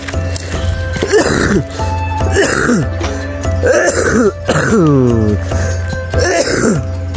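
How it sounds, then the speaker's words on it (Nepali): A person with a dry cough from viral fever, in a rural village setting, coughs and clears the throat in several harsh, voiced bursts spaced a second or two apart, close and loud throughout. "सुक्खा खोकी अहिलेको भाइरल ज्वरो नै हो"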